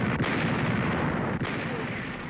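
Naval and air bombardment of Okinawa in World War II, including ships' 16-inch guns, heard as a continuous dense roar of heavy artillery fire and explosions with brief dips, rough and distant-sounding as on old newsreel audio.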